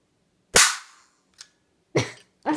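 Gunshots from a first-person shooter video game: three sharp, loud blasts with a fainter pop between them, spaced about a second apart, with no talking.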